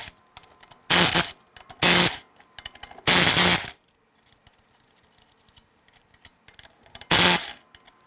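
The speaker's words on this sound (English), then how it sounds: "Using a 19 millimeter socket, we wanna go ahead and remove the lug nuts." A 19 mm socket on an impact gun spins lug nuts off a 2001-2007 Ford Escape wheel: four loud, separate buzzing bursts of about half a second each, with quiet shop pauses between them.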